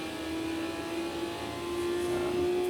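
A BMW V12 LMR race car engine in a video game on the Nürburgring Nordschleife holds a loud, steady, high-pitched drone that rises slightly, with no talking.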